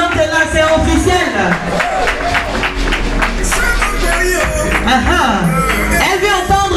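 A crowd applauds and cheers as a woman president arrives, dense clapping and loud hubbub filling the space, with a voice talking over the noise.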